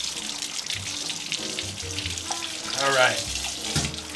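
A trumpet being rinsed under a running tap: a continuous hiss of flowing water splashing over brass, swelling briefly near the end, with someone speaking a short phrase.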